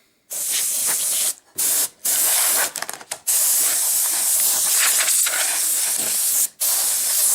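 Canned air sprays onto small plastic parts during cleaning, giving loud, close hissing blasts broken by several brief pauses and one flurry of quick short bursts.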